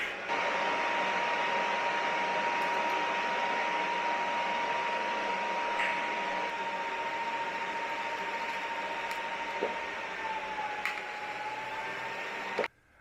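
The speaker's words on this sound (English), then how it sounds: "That was welding an old transfer case adapter." TIG welding on an old cast iron transfer case adapter, a steady, fairly loud arc hiss with a thin continuous whine that runs unbroken for about twelve seconds before cutting off abruptly.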